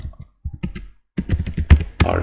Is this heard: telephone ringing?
no